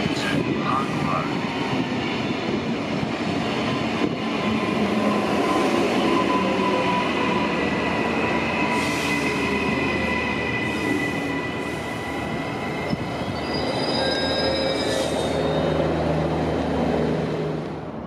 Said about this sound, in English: Arriving on platform 1 is the Brisbane City and Northgate train running express from Cannon Hill to Norman Park